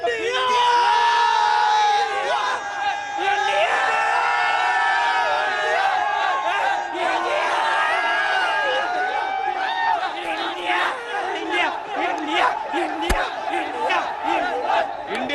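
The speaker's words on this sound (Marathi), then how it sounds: "इंडिया या ठिकाणी जे आहे ते घोषणा दिल्या जात आहे आणि आपण बघितलं तर मोठ्या प्रमाणात जल्लोष" A large crowd in Nagpur celebrates India's T20 World Cup win over Pakistan, chanting slogans, whooping and yelling loudly and continuously, with voices layered densely throughout.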